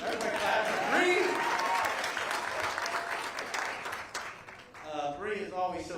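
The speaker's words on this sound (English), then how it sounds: "Everybody clap for Bree." Audience applause for basketball player Bree Jones at an Atlanta Dream introduction event, loud clapping that tapers off before a voice speaks near the end.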